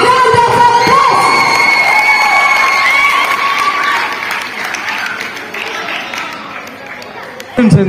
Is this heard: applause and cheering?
yes